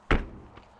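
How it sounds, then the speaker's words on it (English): The thick baggage door on a 2021 DRV Mobile Suites 41 FKMB luxury fifth wheel trailer shuts with a single solid thunk, followed by a faint secondary knock, recorded fairly close. "Big thick baggage doors."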